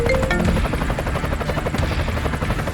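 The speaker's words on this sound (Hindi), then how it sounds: "अरे ये तो करोड़ों का हेलीकॉप्टर है" A helicopter close and loud, its rotor beating in a fast steady chop over a deep engine drone, with a brief whine at the start.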